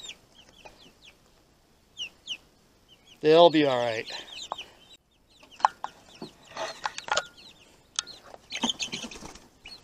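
Chickens in a coop, unsettled after being moved, cluck and squawk in scattered bursts with one loud, drawn-out cackle. A person speaks softly among them.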